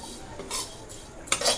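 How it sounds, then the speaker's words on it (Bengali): Vermicelli fried in ghee is stirred around a pan, with a few clinking, scraping strokes of a utensil against the metal and no talk. "আমি ঘিয়ের মধ্যে সিমইটাকে ভাজছি"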